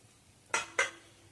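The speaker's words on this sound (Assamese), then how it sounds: "ঢাকোনখন গুচাই চাওঁ অলপমান।" Two quick metallic clinks, close and fairly loud, as a pot lid is lifted off oats chilla cooking on a low gas flame, with a quiet background and no voices.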